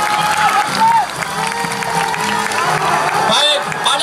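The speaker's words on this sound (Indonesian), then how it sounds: "Boleh kasih aplaus yang meriah buat semuanya." An audience at a Semarang street rally for Palestine breaks into lively applause and cheering, a dense sustained wash of clapping and whoops with voices mixed in throughout.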